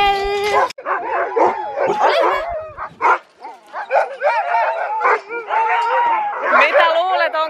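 Several dogs bark, yip and whimper excitedly at close range, loud and continuous with short gaps, while a person talks over them.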